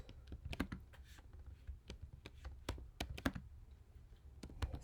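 Quiet computer keyboard typing while code is written, irregular bursts of soft clicky keystrokes with short pauses between runs, close and with no talking.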